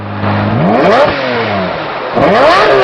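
A Lamborghini Reventon's 6.5-litre 48-valve V12 of 650 horsepower revs hard twice, each blip climbing in pitch and falling away, loud and close with a raspy exhaust note and no talking.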